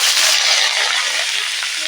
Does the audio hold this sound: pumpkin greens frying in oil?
yes